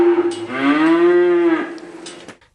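Imported dairy cattle on a farm, with one cow letting out a long, loud, close moo that rises and holds before fading, and a brief fainter sound from the herd near the end.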